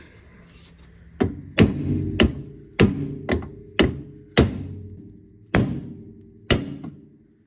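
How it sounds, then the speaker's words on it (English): A hammer strikes metal about nine times at an irregular pace, knocking off a tie rod end on an old diesel Mercedes, each blow a sharp ringing clank that fades quickly, with a faint low hum underneath. "Sometimes knocking it off with a hammer does work."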